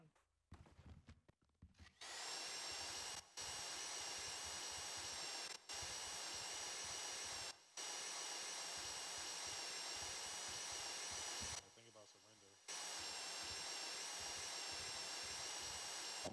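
Heist drill boring into a bank vault lock in the game GTA 5, a steady loud grinding whine running almost nonstop, broken by a few short gaps and a longer pause near the end, with no talk over it.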